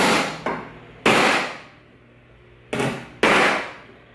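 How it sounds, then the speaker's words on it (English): Four sharp, loud blows of an ordinary hammer strike the side of a wooden workbench at uneven intervals, each ringing briefly before fading, close up with no voices. "I'm just gonna use this normal hammer on the side of my workbench here."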